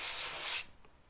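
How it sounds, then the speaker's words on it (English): A 3D printer build plate rubbed over 240-grit sandpaper, making a close, steady gritty scraping for about half a second before stopping, followed by faint quiet. "the build plate and rub it over the surface until you cannot feel any scratches"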